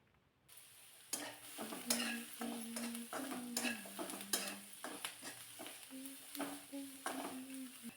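Onion sprinkled with fine salt is sautéed in a pan, with a constant soft sizzle under repeated scraping stir strokes from a spatula, close and fairly quiet.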